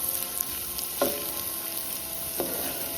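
A sautéed mixture hisses and sizzles as it hits cooked bottle gourd in a pot, a steady close frying crackle with two brief louder splashes of contact, no voices.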